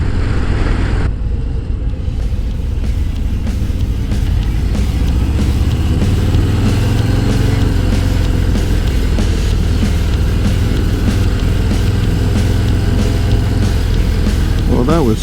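A 2023 Harley-Davidson Low Rider S cruises on a demo ride, a continuous loud rumble mixed with heavy wind roar, steady throughout with a rider's voice occasionally over it.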